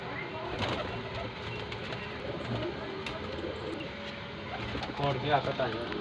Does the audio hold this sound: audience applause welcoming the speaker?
no